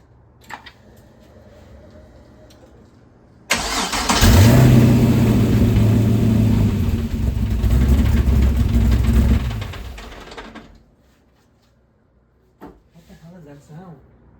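A car engine with its serpentine belt removed turns over and catches, roaring steadily for several seconds close by before cutting off, leaving quiet room tone and a few faint knocks.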